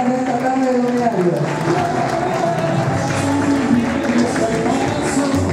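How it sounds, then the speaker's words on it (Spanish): A Sunday-afternoon audience, mothers among them, applauds at a handprint ceremony for filmmakers Raúl and Rolando Fernández. Sustained clapping and crowd noise run throughout, with a loud voice speaking over it. "El aplauso para todos ustedes"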